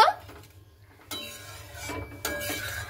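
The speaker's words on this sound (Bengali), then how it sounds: "জলটাকে দিয়ে একটু ভালো মতো করে আমি নাড়াচাড়া করে নিব।" Metal spoon scraping and knocking against a pan while shrimp curry is stirred after water is added, a few distinct clatters over a quiet kitchen background.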